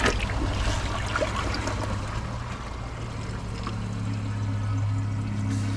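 A toilet flushes with a grocery bag and a microfiber towel in the bowl, giving a steady loud rush and gurgle of water that continues through the whole stretch, close by with no talking.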